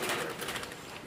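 Doves kept as foster parents coo nearby, soft repeated calls with faint background noise and no talking.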